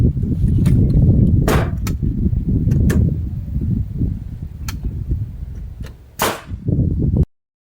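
A hammer drives nails while a window is fitted into a $10 house, with a few sharp, irregular strikes spaced seconds apart over low background rumble.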